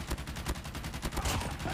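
Gunfire in a shooter video game: rapid, repeated bursts of shots in a quick rhythm, faint and fairly distant in the mix.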